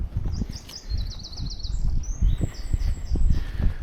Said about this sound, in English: Might be a robin.